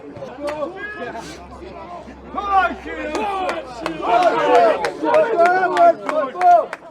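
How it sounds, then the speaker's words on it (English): North Shields football supporters chant together for their team at the end of a match, a loud, sustained mass of voices with rising and falling sung phrases that swell toward the close. "They're still loud and proud at the very end as well, chanting for the team."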